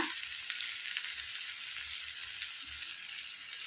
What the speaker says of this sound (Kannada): ಸ್ವಲ್ಪ ಫ್ರೈ ಆಗಿ ಇದು ಹಸಿ ಸ್ಮೆಲ್ ಹೋಗಲಿ